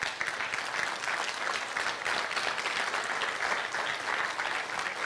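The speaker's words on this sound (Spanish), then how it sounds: "Hasta que termine, dile un aplauso" Congregation applause at a church conference, a thick, steady roar of clapping from a large crowd that continues without pause.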